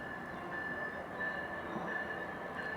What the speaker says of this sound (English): I think I hear the train coming.